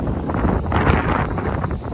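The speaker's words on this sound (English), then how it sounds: "It's pretty freaking windy today." Strong wind buffets the microphone outdoors, a steady low roaring rumble with gusty surges and no voices.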